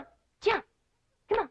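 A dog named Skippy gives two short, sharp barks about a second apart, close and fairly loud, with a man calling encouragement just before.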